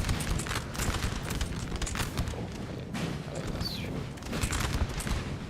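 Cannon and musket fire in a Napoleon: Total War battle: a dense, continuous barrage of overlapping gunshots and heavy booms that keeps up steadily from start to finish with no pauses.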